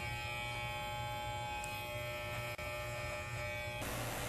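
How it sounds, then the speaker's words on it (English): Electric hair clippers with a shorter cutting blade running during an over-the-comb haircut, a steady close buzz with a faint hum that brightens near the end, no talking. "Now we switch to a shorter cutting blade for the over-the-comb cutting."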